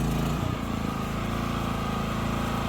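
Champion C3200G hybrid generator running on petrol under a 3 kW load, giving a steady, loud engine drone with an even hum throughout and no talk.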